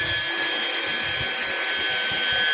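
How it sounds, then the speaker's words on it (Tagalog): A violet cooling fan meant for motorcycle and car engine cooling runs strongly, giving a loud, steady whooshing airflow hum close up with no talk. "Yan yung violet fan natin na pwede ikabit sa motor, cooling system ng motor, tsaka sa kotse."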